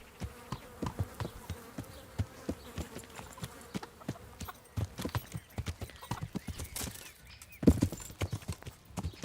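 Horse hooves clip-clop in steady rhythmic steps in the video game Kingdom Come: Deliverance, moderately close and fairly quiet, with a faint buzzing insect-like ambience behind them and a slightly louder clatter near the end.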